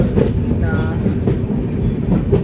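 A moving train nears Karaikudi junction, heard from on board as a loud, close, steady rumble with rhythmic wheel clatter and a brief faint squeal.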